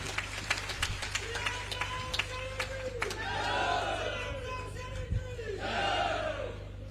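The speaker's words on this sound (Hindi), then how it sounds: "इस मुख्यमंत्री के लिए ताली बजा दो एक बार सारे साथी" A crowd at a political rally in Gohana, Haryana, claps and cheers for the chief minister, with sharp hand claps early on, then swelling shouts and cheering that rise twice before easing.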